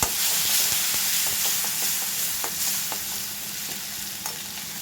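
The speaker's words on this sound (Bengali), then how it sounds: "ওই যে মাছ ভেজে নিয়েছি সেই তেলটাই আছে আর আমি তেল দিইনি একটু পেঁয়াজ বাটা রসুন বাটা দিয়ে দিলাম" Onion and garlic paste frying in oil left over from frying fish, a steady dense sizzle with light scraping stirs scattered through, close and continuous with no voices.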